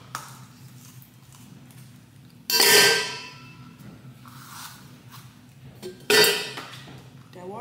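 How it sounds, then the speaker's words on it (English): Big ice cubes dropped into a small Stanley tumbler, giving two separate bursts of bright clinking and rattling, each sharp at the start and fading over about a second, with a quiet room in between. "So when I put my ice cubes in there,"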